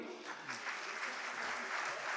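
At a college's 29th Foundation Day celebration, an audience applauds. The clapping is short and faint, with a soft, even wash of many hands that carries on steadily throughout.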